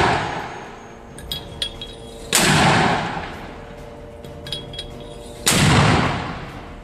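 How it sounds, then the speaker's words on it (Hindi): Two loud, sharp blasts a few seconds apart as a Hamas fighter hidden behind trees fires rockets from a launcher, each with a decaying roar, between them faint metallic clinks and rustling, no talking. "ये लड़ाका पेड़ों के पीछे छिपकर लगातार लॉन्चर में बड़े बड़े रॉकेट भरकर फायर कर रहा होता है।"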